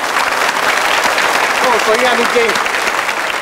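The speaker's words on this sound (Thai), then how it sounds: "ขอเสียงเชียร์เลยครับ" Studio audience applause and cheering on the Thai cooking competition Iron Chef Thailand, a broad steady wash of clapping under a voice speaking over it.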